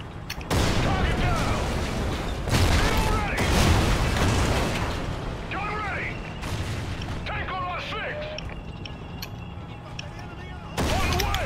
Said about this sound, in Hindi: एक शॉट एक टैंक ख़त्म। टैंक इसको भी उड़ा ही देता हूँ।